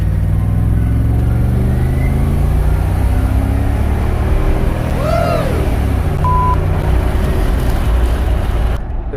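A truck fitted with a 4L80E transmission and a Superior shift kit pulls through a long first gear, its steady engine drone rising in pitch before a brief sweep around the 1-2 shift, all under loud road noise.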